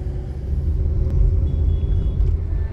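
A Renault Megane with a shaking engine fault drives along, its deep, steady rumble close and loud inside the cabin, with no voices.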